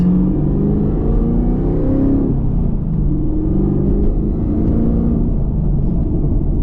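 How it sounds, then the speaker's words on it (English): A Camaro ZL1 1LE with an aftermarket intake rumbles loudly and continuously while cruising city streets, its deep engine drone swelling slightly under light throttle with a faint supercharger whine mixed in. "when we do give it a little bit of gas with this intake, you can hear the supercharger start to whine a little bit."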